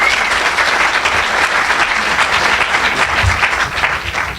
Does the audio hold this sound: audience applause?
yes